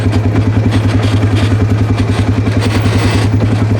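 A Polaris ACE quad climbs a dirt bank on a 4x4 powerline track, its engine a loud, steady, close drone with a rapid pulsing beat and light clatter throughout.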